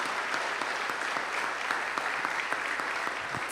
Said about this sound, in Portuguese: Aplauda o Senhor por esse testemunho tão forte.